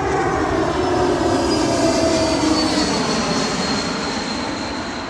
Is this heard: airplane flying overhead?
yes